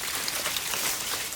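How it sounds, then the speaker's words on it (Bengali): Raw chicken meat being rinsed in water in a village kitchen, a steady broadband wash of splashing and trickling with no pauses, fairly loud and close, no talking. "সুন্দর করে মাংসগুলো ধুয়ে নিচ্ছি।"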